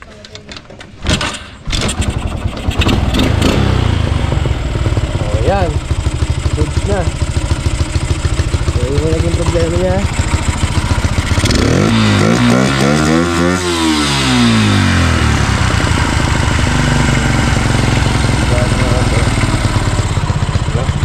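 A misfiring motorcycle engine after repair work is cranked, catches, and runs loudly at idle, with several revs rising and falling, close by, while someone talks over it.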